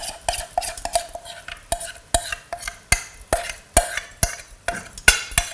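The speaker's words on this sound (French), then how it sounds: "Il faut mélanger au fur et à mesure." Sauce mixture being stirred into fish in a pan, with rhythmic, repeated utensil scrapes and taps against the pan at a steady pace, close and clear, with no talking.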